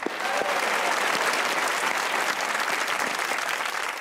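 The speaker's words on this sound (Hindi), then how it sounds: "एक बार अपने लिए तालियां बजाइए।" A large comedy-show studio audience applauds steadily, a dense wash of clapping that stays loud and even throughout.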